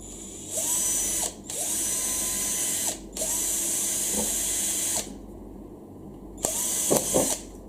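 A power drill with a 2.5 mm bit whirs in several sustained bursts separated by short pauses, loud and close, with a final stuttering run at the end.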